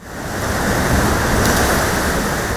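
Water pours down the troughs of a crew rowing tank, a dense steady rushing hiss that swells over the first second and then holds loud and even.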